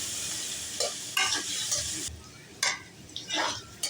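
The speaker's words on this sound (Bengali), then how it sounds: "আলুগুলোকে এভাবে ভেজে নিতে হবে যাতে পুড়ে না যায়।" Potatoes fry in oil with turmeric and salt, a soft sizzle under repeated scraping stirs of a spatula against the pan, several sharp bursts spaced irregularly, close and fairly quiet.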